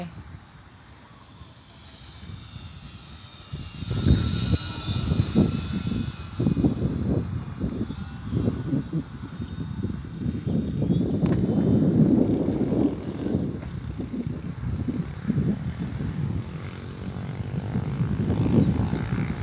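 A radio-controlled Cessna 182 model airplane flies outdoors in strong wind, its propeller engine droning steadily and swelling as it passes, with gusty wind noise on the microphone and people talking at times.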